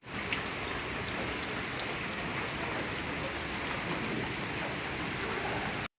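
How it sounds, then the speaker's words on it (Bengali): Steady rain falling outdoors near a monastery during a waterlogged day, an even dense patter of drops on surfaces at constant moderate volume, ending abruptly. "বৃষ্টি এলো হাসি মুখে ড্রেনের জলে পথ গেল ঢেকে"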